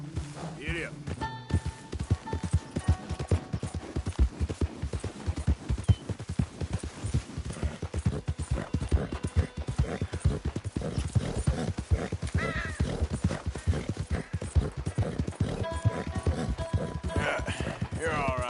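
A horse in the Red Dead Redemption video game gallops with rapid, continuous clip-clop hoofbeats, a whinny near the start and another near the end, while a voice talks over it.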